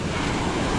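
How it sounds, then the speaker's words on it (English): Large waves breaking on an island beach, a continuous loud wash of surf roaring close by, mixed with wind buffeting the microphone. "there's like these huge breaking waves here"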